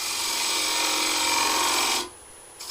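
A skew chisel cuts a wood shoulder flat on a spinning lathe, a steady close hissing shave that runs for about two seconds, then stops abruptly, leaving a quiet lathe hum before a short scrape returns.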